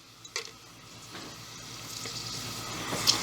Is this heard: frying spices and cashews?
yes